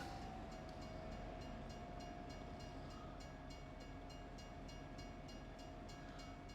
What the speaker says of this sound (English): Oh, hi train.